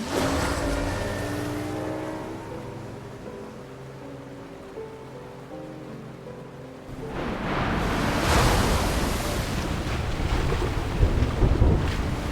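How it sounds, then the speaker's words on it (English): Ocean waves in Love and Deepspace rise into a loud, rushing wash of surf with wind noise after a stretch of soft music, swelling and breaking close by. "These waves"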